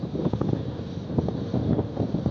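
Strong wind buffets the microphone in constant low rumbling gusts outdoors in a new pistachio orchard in Siirt, close and loud, with no other sounds standing out.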